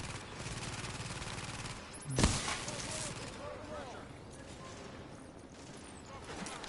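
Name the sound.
suppressing gunfire in video game The Division 2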